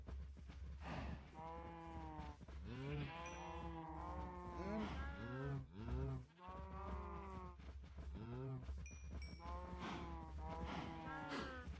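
Cows in the Minecraft video game mooing repeatedly, several low drawn-out calls overlapping one another in close succession over a steady background hum, loud and close.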